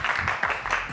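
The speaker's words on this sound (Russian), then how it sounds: "Друзья, ваши аплодисменты." A studio audience at a televised Christmas magic show in Gomel applauds in a dense burst of clapping that fills the whole moment with no voices over it.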